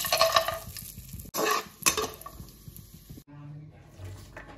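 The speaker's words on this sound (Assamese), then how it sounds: "এইফালে কাজুকেইটা ভাজি লওঁ।" Cashews stirred and sizzling in a hot pan, with scraping clinks of a utensil and short bursts of frying, then quieter sizzle near the end.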